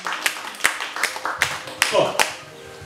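Scattered claps from a church congregation during a Swahili sermon, about six sharp irregular hits spaced roughly half a second apart, heard beneath ongoing preaching.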